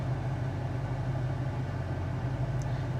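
A 1984 Hurst Oldsmobile Cutlass idles with a steady, smooth low rumble, even and unbroken, heard close with no other sounds.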